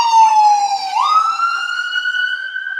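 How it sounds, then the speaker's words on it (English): Emergency vehicle siren sounding close by in a downtown street, its loud wailing tone sweeping steadily and then climbing in pitch as it passes, with no talking over it. "Again, sorry about the sirens,"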